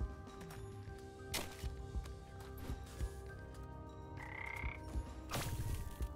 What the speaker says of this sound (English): I'm bopping all these damn frogs.